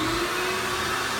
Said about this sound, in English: So here we go, turn the vacuum on.